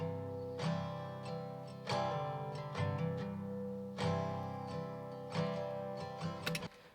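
Strummed chords ring out on a Martin DXK2 acoustic guitar recorded on a phone, a steady run of bright strums with a few sharper accents and a quick scrape near the end, faint and unaccompanied.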